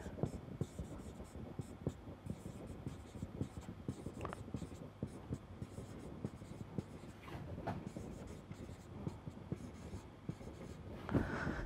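Chalk or marker writes equations on a board during a mathematics lecture on Gaussian elimination, making continuous faint tapping and scratching strokes with quiet room noise throughout.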